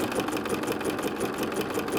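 A sewing machine stitching fabric appliqué, a steady, close mechanical whir with a rapid, even clatter of the needle running throughout.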